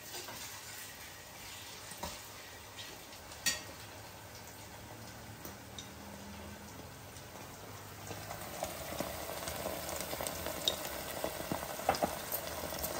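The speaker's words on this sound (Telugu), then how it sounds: "అల్లం వెల్లుల్లిపాయ పేస్ట్ బాగా పచ్చి వాసన పోయే వరకు వేయించుకున్న తర్వాత చూపిస్తా" Ginger garlic paste fries in hot oil for a prawn curry, giving a steady low sizzle with a few soft clicks early on and a brighter, busier crackle building over the last few seconds.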